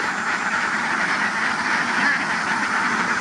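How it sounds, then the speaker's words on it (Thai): Ducks running and quacking, a dense, continuous chorus of nasal calls with rapid rhythmic pulses, fairly close and loud. "โอ้ดูเป็ดวิ่งนะครับ"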